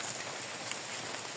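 Rain falls on a mountain hiking trail as a soft, steady patter and hiss, fairly faint and even with no voices.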